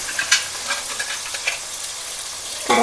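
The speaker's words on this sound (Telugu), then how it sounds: "కలిపిన తర్వాత కోసి ఇగో ఇలా ఫ్రై చేయాలి" Cut vegetables frying in a pan, a steady broadband sizzle with a few sharper crackles and stirring scrapes throughout, fairly close and with no talk.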